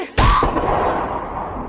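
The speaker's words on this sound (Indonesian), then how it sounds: "Suara tembakan itu terdengar sampai ke desa kera." A single sharp gunshot fired by a man at an ape in a film, a loud sudden blast followed by a ringing tail that decays over more than a second.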